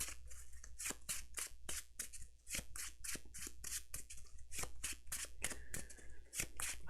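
Playing cards being shuffled for the Etherfields board game, a rapid series of crisp riffling snaps in close succession, close and fairly loud with no talk.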